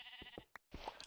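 Sheep in the video game Minecraft let out several short, clear bleats in a quick, uneven series, broken by a brief silent gap. The bleats are alone, with no talk.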